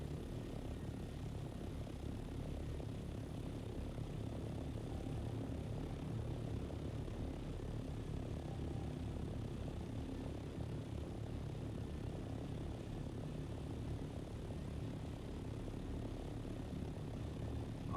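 Propeller aircraft engine in a video game, circling to land: a continuous, even droning hum, low and steady throughout, fairly faint with no talk.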